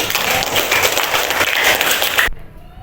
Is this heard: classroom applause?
yes